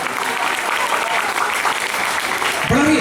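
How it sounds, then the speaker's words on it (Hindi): A live audience applauds schoolchildren at an event, the clapping steady and fairly loud throughout, with a voice briefly cutting in near the end. "तो क्या एक बार तालियां नहीं बनती हैं इन बच्चों के लिए?"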